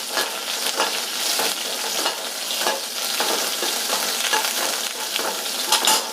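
Finely chopped green chili sizzles in hot oil in a pan for semiya upma while a spoon stirs it, making a close, steady crackle with repeated scraping strokes.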